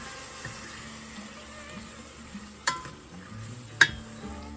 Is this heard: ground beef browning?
yes